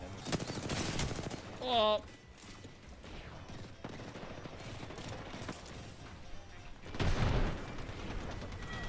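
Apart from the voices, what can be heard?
Nemesis gun firing in a video game (Apex Legends)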